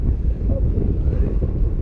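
Steady wind rushing over the microphone during a paragliding flight above the Puy de Dôme, with the breeze coming from behind; a continuous loud low roar fills the whole stretch without pauses.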